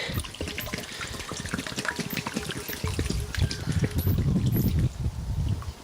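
Water gushes and splashes while a short stroke pump is filled for pressure testing, a continuous bubbling, gurgling pour up close that grows fuller toward the end.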